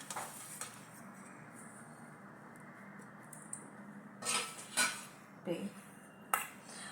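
A spoon stirs ginger-chili paste, cumin and black pepper powder into rava dosa batter in a bowl. It makes several sharp clinks and scrapes in the second half over a quiet, steady background.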